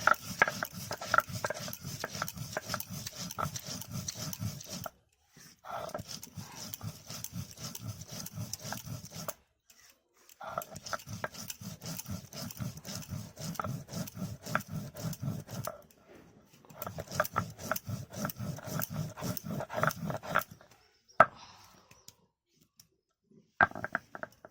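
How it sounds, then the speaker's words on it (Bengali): Ginger and cumin ground by hand on a grinding stone: steady rhythmic rasping strokes in long runs, broken by short pauses, fairly close and alone. "এখন আমি আদা আর জিরেটা বেটে নিচ্ছি।"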